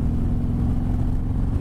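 A 2020 Harley-Davidson Sport Glide accelerates, its V-twin engine giving a deep, steady low rumble with a pulsing throb, loud and close throughout, with no voices.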